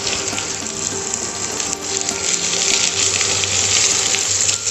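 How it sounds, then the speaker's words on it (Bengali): Finely chopped medium onion frying in a pan for a Bengali chirer polao, a steady broadband sizzle with no talk over it. "দু থেকে 3 মিনিট একটু ভালো করে ভেজে নেবো পেঁয়াজটাকে।"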